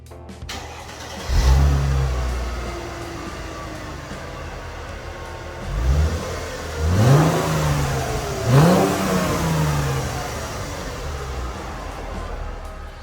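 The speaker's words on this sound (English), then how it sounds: "What do you say we fire it up and we hop in and go for a ride?" A 2006 Chrysler Crossfire engine cranks and catches, then revs in several rising and falling bursts before settling into a steady idle, close and fairly loud.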